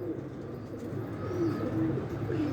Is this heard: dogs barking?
no